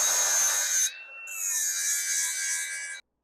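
A power tool sands and trims a custom-built bumper, a loud, close, continuous grinding whine that cuts out briefly, then resumes with a gliding pitch before stopping abruptly.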